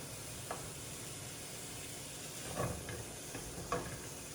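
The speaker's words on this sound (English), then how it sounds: "And finally start to hear the meat sizzling." Quiet, steady sizzling of meat frying in a stainless steel pan, with a few faint scraping stirs of a teak spatula breaking through the hiss.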